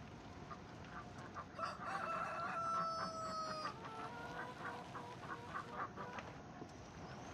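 Chickens on a farm, hens clucking in short repeated bursts with a rooster crowing partway through, fairly close and clear over a quiet background.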